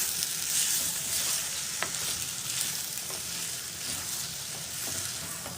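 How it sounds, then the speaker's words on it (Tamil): Brinjal pieces fry and sizzle in a pan for a coconut masala, a steady close crackle with occasional scrapes of stirring and no voices. "கத்திரிக்காயை அடிக்கடி கிளறி விட்டுக்கோங்க, இல்லைன்னா அடிப்பிடிச்சிடும்."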